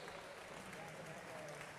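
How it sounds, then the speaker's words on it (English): An audience at a swim meet claps steadily in a dense, even wash of applause for the volunteer timers, filling the whole moment without a break. "This would be a great time to have a round of thank you applause for our volunteer timers"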